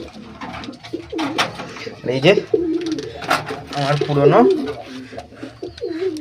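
Pet pigeons cooing in a loft, repeated throaty coos close by, mixed with a person talking over them.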